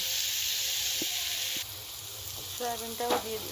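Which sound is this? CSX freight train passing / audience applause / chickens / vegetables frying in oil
vegetables frying in oil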